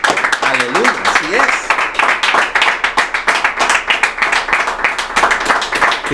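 A church congregation gives strong applause during an evening service, dense rapid clapping from many hands filling the room continuously, with a voice speaking over it.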